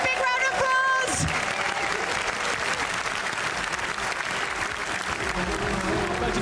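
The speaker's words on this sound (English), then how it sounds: "Let's give a big round of applause." Loud, sustained crowd applause fills an arena at the Gran Turismo World Series world finals, a dense steady roar of clapping that swells after a brief tonal intro and holds evenly to the end.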